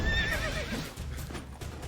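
A horse in The Witcher 3 video game gives a loud, close whinny with a falling pitch, joined by clip-clop hoofbeats and battle game sounds, with no talking.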